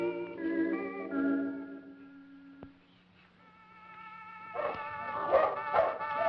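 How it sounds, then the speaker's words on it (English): Violin music plays in a 1950s children's TV show, then a little dog breaks in with a string of sharp, yappy barks over the music, a burst of several quick barks near the end. "the little doggy doesn't like that violin music and starts barking"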